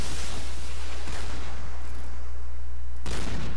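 Gunfire in the shooting video game Point Blank sounds as a loud, dense, sustained roar with sharper cracks about a second in and again near the end.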